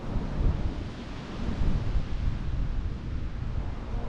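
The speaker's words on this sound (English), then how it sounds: "the wind's dying down a little bit, but it's still there" Wind buffets the bare microphone of a GoPro Hero 8 outdoors, making a continuous low, rumbling roar that swells and eases in gusts and carries no speech.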